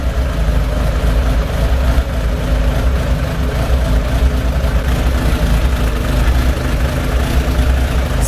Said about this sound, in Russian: Как только поднимаю обороты, начинает чихать